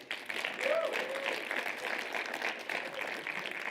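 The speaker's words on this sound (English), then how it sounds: "doing a quick hand of applause for everybody who worked so hard at putting this whole event together" Conference audience applauding the event organizers, a moderate, even patter of clapping that carries on steadily, with a voice faintly mixed in.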